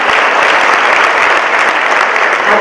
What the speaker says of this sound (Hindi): आप सभी ताली बजाते रहें।